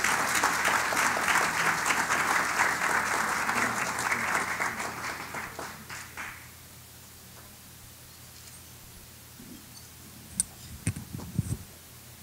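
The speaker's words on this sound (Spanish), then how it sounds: "Denle un aplauso de bienvenida," A church-style audience gives a welcoming round of applause for a visiting speaker and his wife. The clapping is strong for about five seconds, then dies away into quiet room noise with a few scattered claps and knocks.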